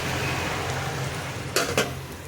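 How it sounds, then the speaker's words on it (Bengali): Cabbage and shrimp cooking in a pan give off a steady, close sizzle and frying hiss, with two brief scraping stir knocks near the end. "বাঁধাকপি দিয়ে চিংড়ি মাছ দিয়ে রান্না করছি"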